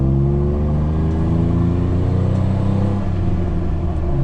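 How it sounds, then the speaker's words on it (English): A Jeep Wrangler fitted with a one-ton Ford Dana 60 axle swap pulling back up to speed, a loud, steady engine drone and rumbling road noise heard from inside the cab, with no talking. "we're gonna bring it back up to speed"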